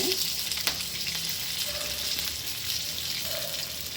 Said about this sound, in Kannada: ನೋಡಿ ಇದೆಲ್ಲ ಹಾಕೊಂಡು ಸ್ವಲ್ಪ ಫ್ರೈ ಮಾಡ್ಕೊಳ್ಳೋಣ